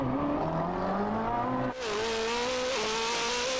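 A Koenigsegg Jesko and a tuned Hayabusa accelerate hard in a drag race, engine notes climbing steadily through the revs, then a sharp gear change before the rising whine continues, loud and sustained.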